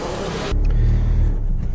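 An automatic Maruti Swift Dzire fitted with a CNG kit idles with a steady low engine rumble that swells slightly after a brief shift in tone, with no one talking.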